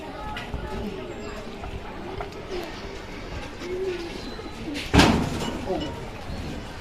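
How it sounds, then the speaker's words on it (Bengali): Fancy pigeons cooing in a loft, soft repeated coos close by over a busy background with people talking. "আপনি তো ফেন্সি কবুতর পালেন"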